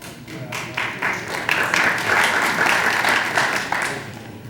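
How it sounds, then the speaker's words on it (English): An audience at a community meeting about the Stevens Creek Trail applauds, a dense, steady wash of many hands clapping that swells and holds for several seconds, with a few louder claps standing out near the start. "The clapping."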